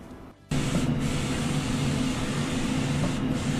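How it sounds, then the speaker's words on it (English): A large format photo printer runs steadily as an owl print rolls out, a sustained close mechanical hum with a low motor drone that starts abruptly after a brief quiet moment and continues evenly. "Our print's rolling out now, and it's looking really good."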